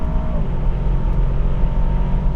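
Aston Martin DBX 707 accelerating hard on a quarter-mile run, a loud, dense engine roar holding steady and close throughout with no voices over it.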